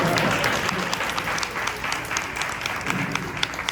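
An audience applauds at a film festival panel of directors and writers, honoring a longtime director of American Dad; dense, steady clapping from a crowd fills the room throughout.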